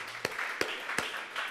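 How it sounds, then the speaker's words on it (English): An audience gives a short round of applause, scattered claps with a few sharper hand strikes over a light crowd wash. "Let's just give them a round of applause right now."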